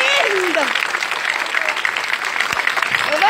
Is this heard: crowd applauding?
yes